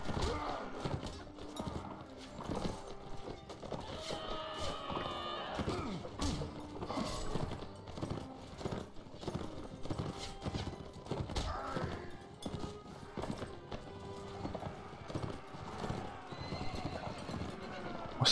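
Horses galloping in the Mount & Blade Warband video game during a cavalry charge against tundra bandits: steady, dense clip-clop hoofbeats with occasional neighs and clashing battle noise throughout, loud and continuous.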